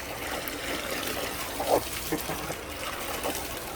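Water from a submersible pump recirculates back into its own container, making a steady close trickling and splashing flow with a few brief louder gurgles.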